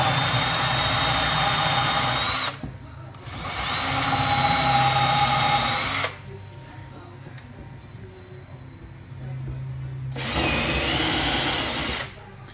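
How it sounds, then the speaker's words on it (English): Power drill boring two holes into oak for dowels during stair cladding work, three loud whining bursts of a few seconds each, separated by quieter gaps of low hum. "we would then drill two holes"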